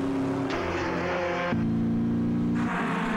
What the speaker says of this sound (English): You want to hear those horses. The engine is talking to you.